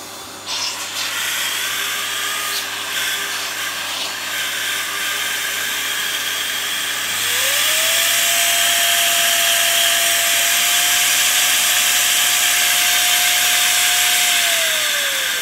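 A Hoover Performer bagged cylinder vacuum cleaner runs steadily with a broad airy roar, its motor whine rising in pitch partway through as it spins up to full speed, continuous and close with no talking.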